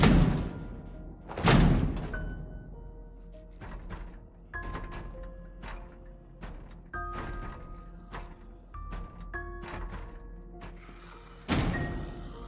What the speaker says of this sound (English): they finally started tearing down the metal door